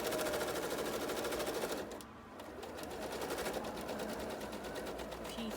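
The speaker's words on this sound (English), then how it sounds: "just slowly stitch over it" A sewing machine stitches a quilt block seam with a rapid, even mechanical chatter that pauses briefly, then resumes at a steady pace, close and clear.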